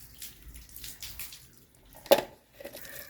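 Water is poured over a dog during its bath: soft trickling and faint splashing, then one louder close gush of water midway, fading back to quiet dribbles.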